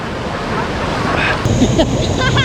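Kravica Falls in Bosnia and Herzegovina gives a steady, broad roar of rushing water close by, mixed with wind and crowd murmur, and a few brief voices come through near the end.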